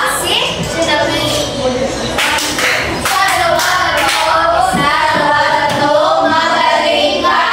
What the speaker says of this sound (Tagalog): Bigyan natin ang magaling ka ng palakpak si Junami.